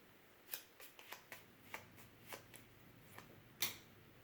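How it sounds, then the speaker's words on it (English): Board game cards being shuffled at a table, a quiet series of crisp riffling snaps spaced irregularly, ending with one louder flick. "The other one we have to shuffle to get."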